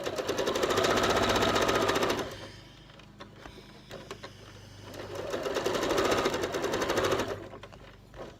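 A sewing machine stitches piping onto fabric in two loud, steady runs of rapid mechanical chatter. A quieter stretch of soft clicks and handling separates the runs.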